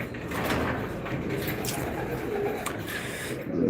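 Racing pigeons coo in a home breeding room, a low, dense murmur close by with a faint mechanical clatter near the end.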